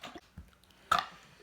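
A short, loud burp erupts near the microphone after a few faint mouth and throat sounds, a single guttural croak during a casual burping contest among friends.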